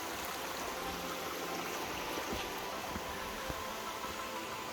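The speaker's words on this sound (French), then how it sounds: "a priori, il y a une cascade" A waterfall in Yosemite, heard as a steady broadband rush of falling water that stays even and continuous throughout, with no voices.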